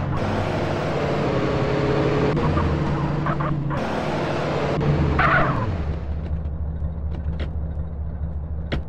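A car drives in Grand Theft Auto: San Andreas, its engine rumbling steadily and close throughout, with a brief surge of louder noise in the middle and occasional faint clicks above it.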